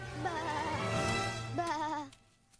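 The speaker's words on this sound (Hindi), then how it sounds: "इस बार मैं सुदामा की नाक के नीचे से ये सारी भेड़ें चुरा ले जाऊंगा।" Two long quavering sheep bleats from a Krishna cartoon, one after the other and close, then a quiet tail with no voices.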